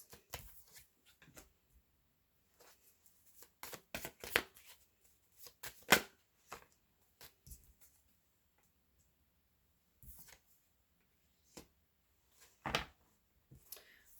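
Tarot cards being shuffled and drawn from a deck during a reading, heard as soft scattered riffles and slaps in short bursts, close and fairly quiet, with silent gaps between and no voice.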